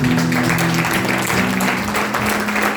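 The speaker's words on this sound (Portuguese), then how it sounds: "Você coloca de pé e dá uma salva de palmas ao Senhor." A church congregation claps steadily and loudly for several seconds during a communion service, a dense wash of applause with music or a sustained tone underneath.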